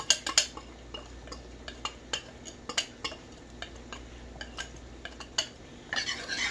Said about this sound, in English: I'm gonna add my roux to the beef broth.